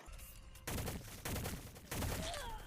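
Gunfire in the online game Shell Shockers, from a slow-firing weapon, comes in three dense bursts of rapid shots across a few seconds, fairly loud against a quiet game background.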